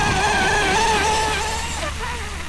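Blackjack 24 powerboat engine pulling at about three-quarter throttle during a speed run, a loud steady drone with rising and wavering harmonics that eases slightly toward the end.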